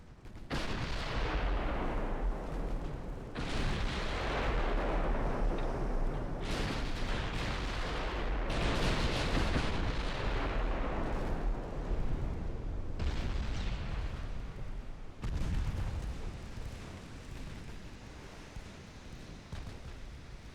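Deep, rumbling ammunition detonation explosions in a naval battle from Ultimate Admiral: Dreadnoughts roll on in heavy overlapping booms and artillery-like blasts, loud and sustained, then ease into a softer rumbling tail.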